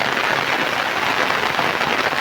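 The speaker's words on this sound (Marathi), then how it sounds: "सुप्पा या परिसरामध्ये मुसळधार पावसाला सुरुवात झालेली आहे." Heavy rain pours onto open farm fields in a dense, loud, unbroken wash of noise with no gaps.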